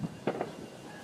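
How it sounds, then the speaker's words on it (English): Fourth of July fireworks pop twice in quick succession, faint and distant, over a low outdoor hum. "Can't do 4th of July without fireworks."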